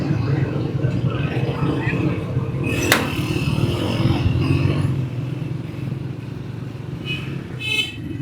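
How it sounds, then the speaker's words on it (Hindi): Heavy road traffic through a busy market bazaar area in Sialkot Cantt, a steady mix of car and motorcycle engines rumbling nearby, with a brief sharp click and a horn toot late on. "ट्रैफिक बहुत है इधर।"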